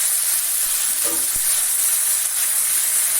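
Potatoes go into hot oil with lightly fried cauliflower for an aloo gobi capsicum curry, giving a steady close sizzle and hiss with a brief clatter as they drop in.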